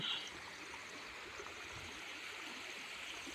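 Steady rushing of monsoon rainwater flowing like a small stream on village farmland, a continuous broadband wash with gurgles throughout, no voices.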